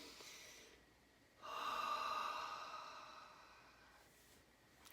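A person takes a slow, deep breath during a calm guided breathing exercise, a long airy inhale swelling and fading close to the microphone in an otherwise quiet room.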